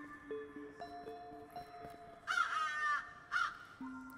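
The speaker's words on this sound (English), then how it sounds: "Where did this little crow come from?" A crow caws in The Rewinder 2 video game, two harsh rasping calls midway over quiet, tonal game music and soft chimes, fairly close and clear with no voices.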